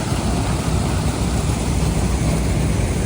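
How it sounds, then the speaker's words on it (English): A tractor engine running at an antique machinery show, a loud, steady, broadband mechanical drone close by with no clear rhythm or talk. "Always brings a nice tractor."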